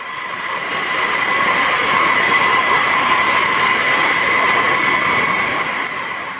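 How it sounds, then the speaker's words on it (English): A US Air Force B-52 bomber roars at full power on an emergency takeoff, a loud, steady broadband jet-engine rumble with a strong whine that holds constant throughout. "the B-52 aircraft must utilize all available power to immediately take off at maximum speed"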